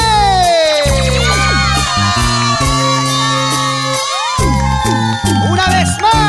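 Loud, lively band music with requinto guitar at a live show, a crowd clapping, cheering and shouting along, the noise of the audience mixed steadily through the whole stretch.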